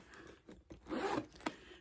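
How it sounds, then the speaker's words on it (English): A zipper on a vintage Louis Vuitton denim bag is pulled in a few quick, close raspy strokes, ending with a sharp tug, heard alone and quietly. "The zipper is super smooth."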